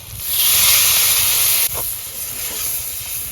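Water poured into a hot pan of curry bursts into a loud, close steamy hiss and sizzle that sustains, dips briefly, then carries on at a slightly lower level.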